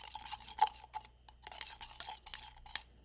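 A utensil stirs a solution in a container to dissolve chunks, making quiet, rhythmic scraping and swishing strokes in short bursts with small clinks. The sound is close and faint, with no talk.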